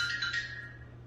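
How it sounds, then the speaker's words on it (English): A mobile phone ringtone chirps in a short burst of bright electronic tones over a steady low hum, fairly faint, with no talking. "sorry, that's my phone"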